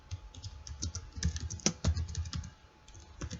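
Computer keyboard typing HTML code, a quiet run of irregular key clicks with short pauses between bursts, close and alone.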